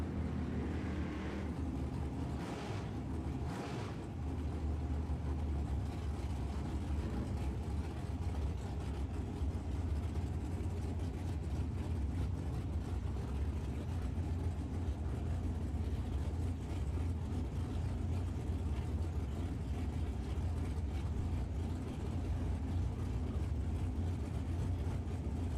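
Drag race cars, a Chevrolet Camaro and an Oldsmobile Starfire, idling at the staging lanes; a steady low engine rumble holds throughout, with a short burst of revving near the start.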